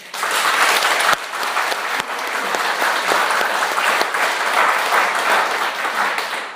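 A church congregation at a Sunday worship service in Seoul breaks into sustained, dense applause, many hands clapping together at close range for the whole stretch, without any speech over it.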